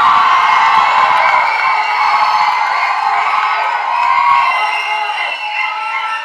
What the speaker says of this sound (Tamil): சந்தானம் அவர்களே ஒரு பெரிய கைத்தட்டலோட